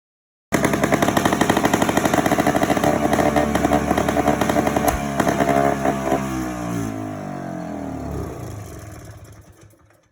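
Vintage 1970 Sno Prince Blizzard snowmobile with a Sachs engine, hanging gas tank and old exhaust, running with a loud, rapid, raspy two-stroke buzz close by that rises, then eases off and fades near the end.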